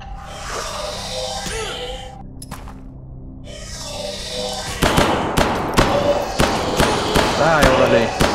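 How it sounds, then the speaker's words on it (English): Gunfire from the video game Hidden Deep strikes walls in a rapid series of sharp cracks and thuds, loud and close. A voice is heard over the shots and some quieter game sounds come before them. "Shooting at walls."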